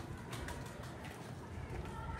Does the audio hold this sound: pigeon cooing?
yes